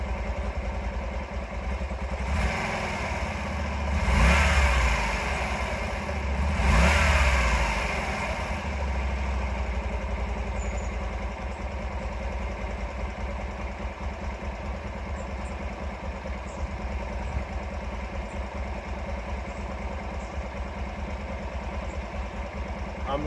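A 2006 Honda Varadero 125 motorcycle engine idles steadily under 2000 RPM, with two short revs rising and falling early on before settling into an even, close putter.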